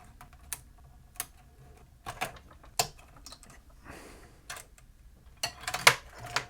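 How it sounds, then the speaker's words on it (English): Plastic cable ties are snipped one by one inside a Pioneer PD-M6 CD player during a repair, making sparse, crisp clicks close by and fairly quiet, with irregular gaps between them. "I'm going to have to snip all these ties"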